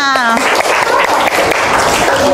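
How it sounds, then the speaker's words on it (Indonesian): Applause from a group at an academic coaching session, a dense burst of clapping that rises briefly over a voice speaking at the start. "Tepuk tangan buat kita semua"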